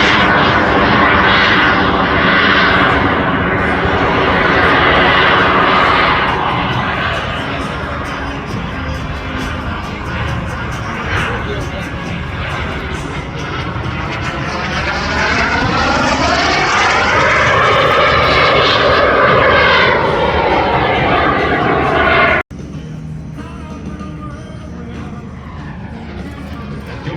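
A fixed-wing airplane engine at an air show, performing aerobatics in October 2022, roaring loud and steady with a rising and falling pitch as it maneuvers, then dropping off abruptly near the end.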